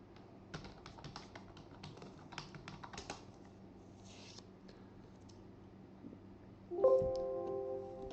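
Soft, quick keystrokes tapping out an administrator username and password on a computer keyboard, faint and irregular in a quiet room, ending with a brief louder tone.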